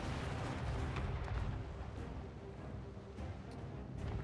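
Great cannon artillery in Total War: Warhammer III fires in the distance, faint booming blasts over a continuous low rumble of battle noise.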